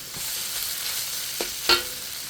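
Steady hissing sizzle of beef stir-frying in a hot pan, with a couple of soft clinks of a utensil stirring near the end.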